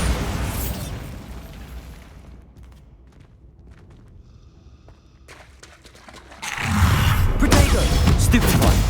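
A Bombarda blast in Hogwarts Legacy erupts after a quieter stretch of light clicks and movement, a loud, rumbling explosion that swells abruptly and roars on close and heavy.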